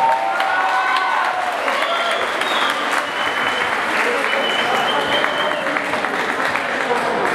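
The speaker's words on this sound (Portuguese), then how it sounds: "A salva de palmas para os verdadeiros guerreiros aí," A crowd at an X1 Kombat fight event gives the fighters a sustained, loud round of applause, dense clapping with some cheering and voices mixed in throughout.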